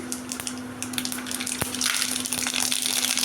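Mustard seeds sizzling in hot oil for a horse gram and soy chunk stir-fry, with crackly popping over a steady hiss that grows louder and busier near the end, plus a sharp tap midway.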